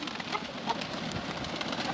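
Pigeons coo softly in soft, rounded calls over a steady outdoor background hiss, no voices present.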